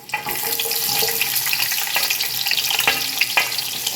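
Sliced onion frying in oil in a pan, with a continuous close sizzle and occasional clinks and scrapes of stirring, no voices.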